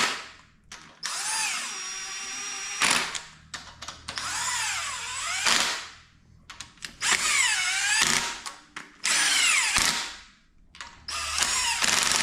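A 3/8-inch impact gun with a 15 mm socket working on a junkyard 5.3 LS engine build for a turbo mega truck, firing in several loud bursts of whirring and hammering, separated by short pauses.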